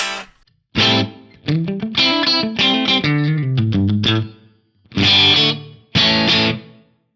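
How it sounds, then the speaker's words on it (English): An electric guitar through a Fractal FM3 amp modeler on a Band Commander amp model plays a run of bright picked notes and sustained chords with a distorted, effected tone, trailing off with reverb between phrases. "I got some reverb on there."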